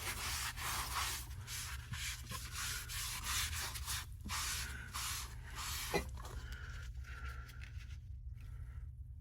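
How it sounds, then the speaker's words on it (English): A magic eraser scrubs plastic on a JDM Toyota Tercel inclinometer, making steady, close rasping strokes that continue throughout the clip. "I'm going to take a magic eraser, kind of scrub away at this"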